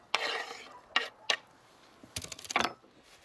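Chopped carrots tumble into a dish at an outdoor winter cooking spot, making several short bursts of rattling clatter with quiet gaps between them.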